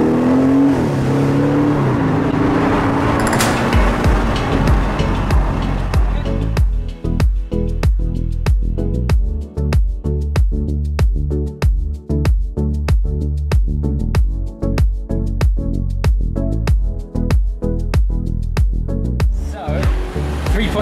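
A new Aston Martin Vantage travels on the road in a convoy with a DB6 coupe and a DB4. A loud, steady engine drone with fast rhythmic pulsing carries on for the whole stretch, and no one speaks.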